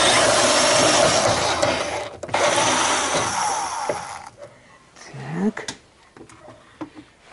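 A cordless screwdriver whirs loudly and steadily while backing out 10 mm hex bolts on the trunk lock of a 2003 Nissan Sunny, pausing once, then stopping before a few clicks and a short rising whine.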